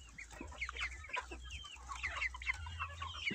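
Two-month-old Livenskaya marbled chickens, kept at home, cluck and chirp in quick, overlapping bursts close by, over a low steady background hum.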